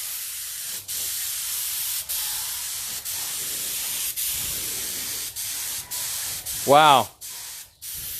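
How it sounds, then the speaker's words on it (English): A spray gun hisses paint onto a biosand water filter in a series of steady bursts separated by short pauses, close and loud, with a brief exclamation from a voice near the end. "He'll use a spray gun, and he'll put a nice even coat of paint on the filter"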